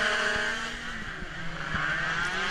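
Several 50cc racing scooter engines whine and rev together at high pitch at a race start, a continuous buzzing drone from a pack of machines pulling away.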